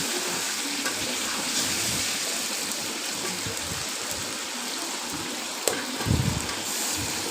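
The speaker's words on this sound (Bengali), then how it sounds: "এবার একটু পর পর এইভাবে নাড়িয়ে মাংসগুলো ভালো করে বেজে নেব" Goat meat frying in a pan with packet spices, giving a dense, steady sizzle like light rain, with stirring scrapes and a sharp clink followed by a louder bubbling burst near the end.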